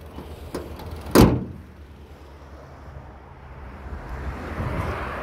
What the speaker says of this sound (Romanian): Închidem capota.